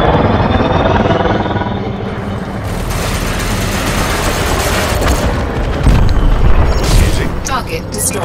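A target ship explodes in a space combat game, with heavy booming blasts and a dense rumbling roar, and a voice speaking over the noise.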